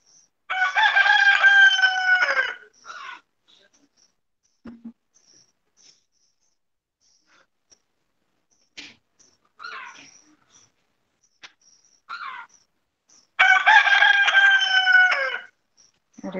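Roosters crowing outdoors near a balcony, two long loud crows at the start and end with softer clucks and short calls scattered between, no voices.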